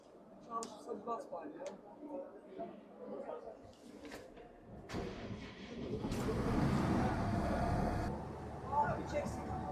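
A Massey Ferguson 8S.305 tractor engine cranks and rumbles to life midway at an agricultural fair in Kayseri, building into a loud, steady low roar after some earlier clicks and clunks.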